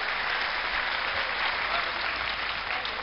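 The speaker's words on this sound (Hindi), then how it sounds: "तो अभी गजेंद्र जी के लिए एक बार फिर से जोरदार तालियां बजाते।" A live audience at a poetry recital during the Simhastha Kumbh in Ujjain claps loudly for a young poet, a dense, steady wash of applause filling the clip without pause.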